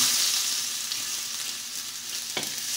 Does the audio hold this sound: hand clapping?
no